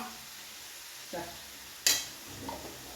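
Prawns tossed with biryani masala in a pan: a soft, low sizzle with a couple of utensil scrapes and one sharp metallic clank as they are stirred.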